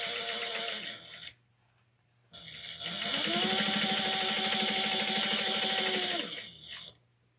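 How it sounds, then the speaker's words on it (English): A sewing machine stitches fabric for a small wristlet bag, backstitching at the seam ends: a short burst, a pause, then a steady, close, loud run of about four seconds before it stops. "And backstitch the beginning end."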